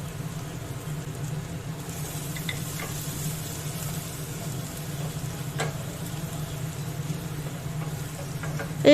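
Crushed garlic sizzles and fries steadily in hot oil in a pan for ghugni, a continuous close crackling hiss with faint stirring scrapes and no talk.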